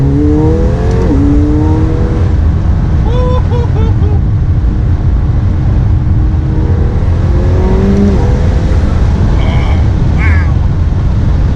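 A McLaren 720S engine roars loudly on a road, rising through revs and dropping sharply on quick downshifts, with wind and road noise beneath and voices speaking over it.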